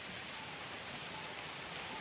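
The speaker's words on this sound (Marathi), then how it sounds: "आणि पाऊस लागलाय, हा बघा कसला आलाय" Steady rain hisses down in an even, unbroken wash of noise, soft and fairly distant, with no voices.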